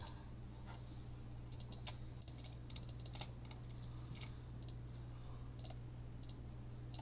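Computer keyboard keys clicked in scattered taps and short bursts during a Blender 2.8 session, close and crisp over a steady low electrical hum.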